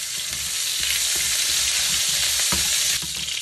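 Ginger hits plenty of hot oil for pork dinuguan, giving a loud, continuous sizzling crackle with a few stirring knocks in the pan.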